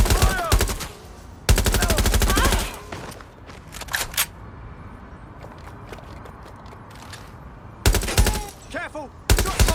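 Loud volleys of close gunfire in Watch Dogs Legion, a burst at the start and another after a quieter stretch with scattered single shots, over a rumbling game backdrop and occasional shouted voices.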